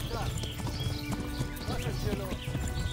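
A horse at full gallop in the video game Kingdom Come: Deliverance, with steady, close hoofbeats running throughout. Someone talks over them.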